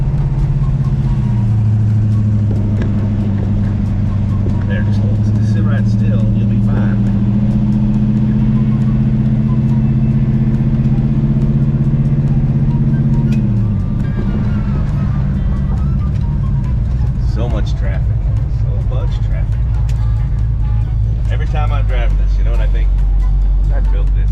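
A 1969 Dodge Charger, the General Lee, cruises through an old neighborhood with its engine humming and shifting pitch midway, while someone talks over it inside the car.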